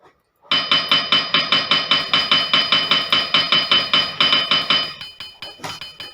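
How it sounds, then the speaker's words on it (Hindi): A hammer sound effect from a PowerPoint animation: a fast, even string of about twenty metallic, slightly glassy hammer taps, loud and close, thinning toward the end. "इफेक्ट पे जाके साउंड सिलेक्ट करें, हैमर, हथौड़ी की आवाज से"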